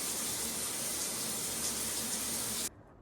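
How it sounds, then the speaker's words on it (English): Shower water runs in a steady, close hiss and then cuts off abruptly just before the end. "Okay, I am so ready for my shower."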